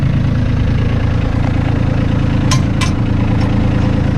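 A Kubota B2650 compact tractor's diesel engine idles steadily and loudly up close, a constant low rumbling drone with a few faint high squeaks over it.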